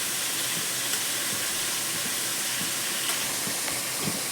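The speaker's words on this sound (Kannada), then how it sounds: "5 ನಿಮಿಷ ಇದು ಎಣ್ಣೆಲೆ ಫ್ರೈ ಆಗಬೇಕು" Mutton keema fries in oil with a dense, even hiss and sizzle, loud and continuous, with a few faint clicks and no voices.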